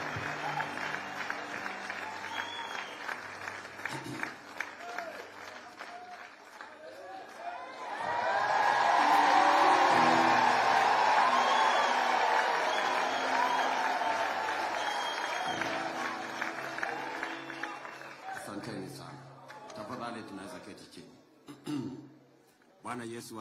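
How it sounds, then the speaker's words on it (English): A large gathering claps and cheers to welcome an incoming president, swelling to a loud sustained wave in the middle after stretches of amplified talk, then fading as speech resumes. "let's give a round of applause, a warm welcome to our incoming president, Dr. William Samoei Ruto."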